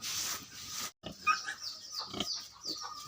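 Young piglets on a farm grunt and squeal up close in quick, uneven bursts, with one short pause early on and no talking.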